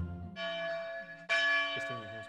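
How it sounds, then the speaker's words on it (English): A bell in the film It's a Wonderful Life rings out in two clear, resonant strikes, the second louder, with ringing tones sustaining between them. "every time a bell rings, an angel gets his wings"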